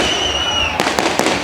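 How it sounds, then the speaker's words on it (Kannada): Firecrackers at the Karaga festival: a thin high whistle is followed by three sharp, loud crackling bursts in quick succession, close by. "ಈ ಪಟಾಕಿ ನನಗೆ ಬೇಕಾಗಿಲ್ಲ."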